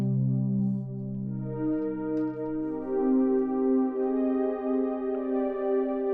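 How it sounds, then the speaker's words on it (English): A dark, muffled synthesizer pad holds low chords with the bright top end cut away, steady and moderately loud with no talking. "A lot of this sound really filtered. You sound like a closed filter,"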